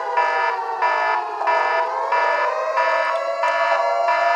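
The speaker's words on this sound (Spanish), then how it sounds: "este es de alarma nuclear y radioactividad" A nuclear-attack civil defense siren wails loud and alone in a steady, pulsing warble, rising and falling in regular cycles about every two-thirds of a second.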